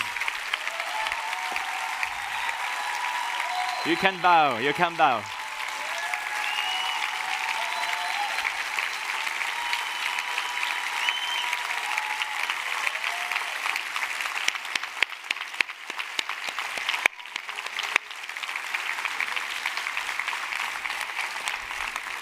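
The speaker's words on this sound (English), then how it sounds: "And a thunder of applause for Minuit 12." A large audience gives sustained applause at a conference closing ceremony, steady, loud clapping that continues for over twenty seconds, with a brief warbling tone and a voice speaking near the start.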